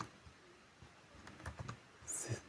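Sparse, faint key clicks from a computer keyboard: a few soft taps spread out, then a quicker cluster near the end, all quiet and close with no talking.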